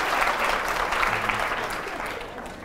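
A studio audience at a Pakistani television news talk show claps steadily and loudly, a dense wash of applause that holds throughout and eases slightly toward the end.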